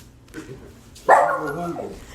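A dog lets out a single loud, close bark midway through, trailing into a brief whiny tail after quiet background.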